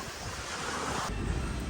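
Ocean surf at a beach resort in Subic, a continuous wash of waves mixed with gusting wind noise on the microphone.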